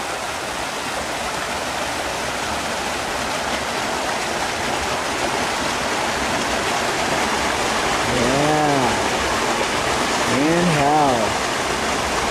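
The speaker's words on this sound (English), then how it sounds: "this is where we measure the actual stream flow" Steady rushing water from a stream, a broad constant wash heard up close, with a brief voiced sound rising over it twice near the end.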